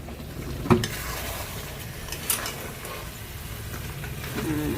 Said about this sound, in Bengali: নাড়ানো চাড়ানো হচ্ছে।